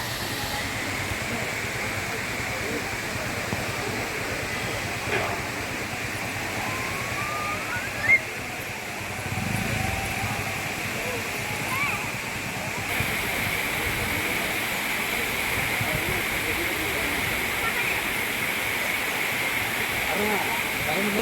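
Courtallam waterfall gives a constant, dense roar of falling water that fills the whole stretch, with faint voices now and then beneath the rush.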